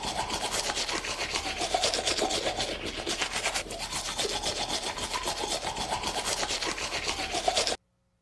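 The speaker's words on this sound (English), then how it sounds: "It's brushing your teeth." Someone brushes teeth as a what's-that-sound guessing game clip: a continuous, close, gritty scrubbing rasp with a quick back-and-forth rhythm lasting about seven and a half seconds, then abrupt silence, with no talking.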